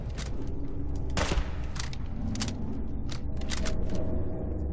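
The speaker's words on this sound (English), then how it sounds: "Stop shooting! Don't shoot through the wall!" Gunfire in the video game Fallout 4, with shots fired through a wall: continuous rapid bursts of shots over a dense, loud background of battle noise throughout.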